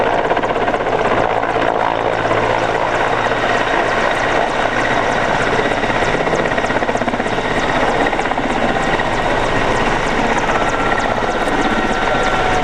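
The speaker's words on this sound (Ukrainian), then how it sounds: "Екіпаж виконує маневр заходу на посадку на території." A helicopter carrying firefighters on a training exercise makes a loud, steady rotor and engine roar as it approaches to land. The sound is continuous, close and unbroken, with no voices over it.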